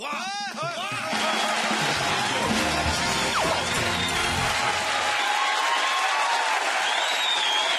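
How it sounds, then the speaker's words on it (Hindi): An audience at a stand-up comedy laughter contest claps loudly in a sustained wash of applause that swells after a brief start and holds steady, dense and close. "ये तालियां क्यों बज रही हैं?"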